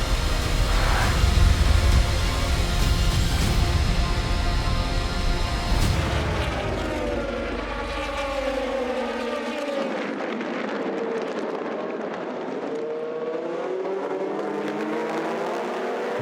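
Race cars start the 24 Hours of Le Mans, their engines roaring in a dense, continuous wall of sound as cars accelerate and sweep past one after another, loud and sustained throughout.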